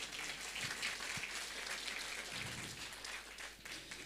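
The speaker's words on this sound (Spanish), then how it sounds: "Una vez más vamos a dar por favor fuertes aplausos." A church congregation at a Sunday service in Aymara keeps clapping in sustained applause, a dense patter of many hands that carries evenly throughout with no talk over it.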